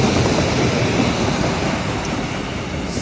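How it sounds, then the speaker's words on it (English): Freight train with flatbed wagons rolling past at Harringay Green Lanes, loud and near, a dense steady roar with high metallic wheel screeching running throughout. "Screeching flatbeds."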